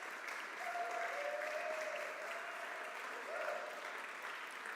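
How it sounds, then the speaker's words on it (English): Applause from a church congregation at a service, a steady, moderately distant wash of clapping hands that carries on evenly for the whole stretch, with a faint tonal hum running underneath. "We can clap for defending democracy anytime we want"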